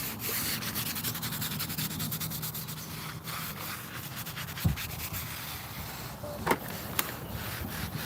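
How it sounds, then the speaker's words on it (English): Whitish marble gravestone being scrubbed at a cemetery community work party in Seffner, Florida: steady, close rasping strokes that run continuously, with a couple of brief knocks. "you start scrubbing"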